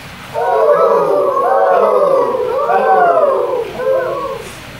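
A human voice imitates a great horned owl, giving a few low, drawn-out hoots in a steady run, close and fairly loud, with no other talking.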